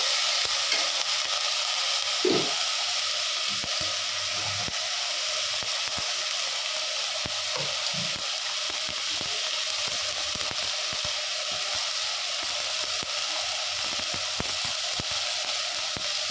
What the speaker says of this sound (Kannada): ಮಿಕ್ಸ್ ಮಾಡ್ತಾ ಇದ್ದೀನಿ. ಈಗ ಮೆಂತ್ಯ ಸೊಪ್ಪು ಹಾಕಬೇಕು.